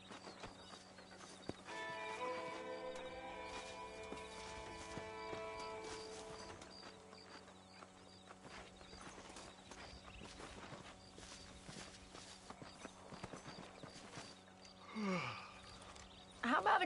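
Horse hooves clip-clopping at a steady walking pace in a Red Dead Redemption game scene, faint and even beneath ambient background hum, with a brief whinny near the end.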